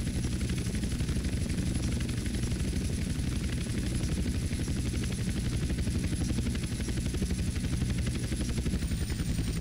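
Helicopter in GTA San Andreas, a loud, continuous rotor thump with a constant engine drone and a thin high whine, close and unbroken from start to finish.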